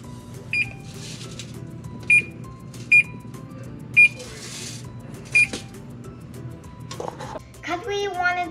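An oven's control panel sounding several short, sharp electronic beeps at irregular intervals while the preheat temperature is set, close by over a low room hum, with a voice speaking near the end.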